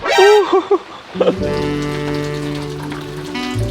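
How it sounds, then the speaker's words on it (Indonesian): Heavy rain falling at a campsite near Mount Fuji, Japan, a continuous wet patter beneath a brief voice at the start and some sustained tonal sounds. "Dan hujannya awet banget ya, masih hujan terus."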